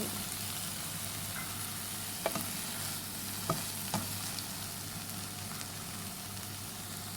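Eggs frying in a pan for a Thai fish-sauce chili scrambled egg dish, a steady soft sizzle with a few light scrapes of stirring, close but fairly quiet.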